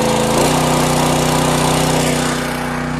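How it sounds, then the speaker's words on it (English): A pool fire pump engine for wildfire home protection revs up and holds a loud, steady buzzing drone, rising in pitch early on and then running continuously up close, without talk. "Now I'm gonna go ahead and turn up the RPMs and handle my show and wet things down"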